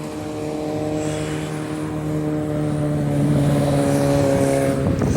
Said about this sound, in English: sorry for all this traffic noise.